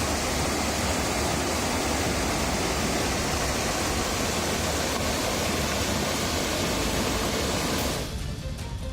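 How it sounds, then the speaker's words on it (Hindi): A river swollen by heavy monsoon rain in Sirohi, Rajasthan, rushes past as a dense, steady roar of water that stays loud and unbroken, then thins abruptly near the end. "राजस्थान के सिरोही में भारी बारिश से नदियां उफान पर हैं।"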